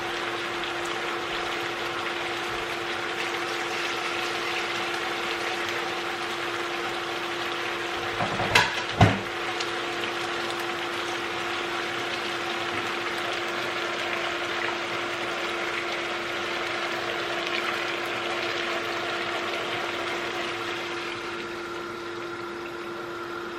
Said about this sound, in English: I'm going to add some hot water to this